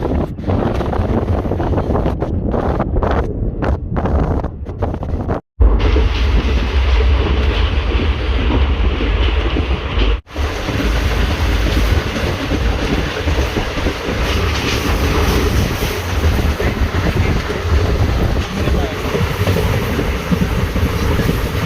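Train running from Madurai to Rameswaram, a steady loud rumble of rolling wagons with wind buffeting the microphone and two brief dropouts, no talk.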